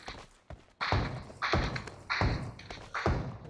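Player character in the mobile battle royale game BGMI landing after jumps, a series of four or five heavy thuds spaced about half a second apart, fairly close and fairly loud, with no talk over them.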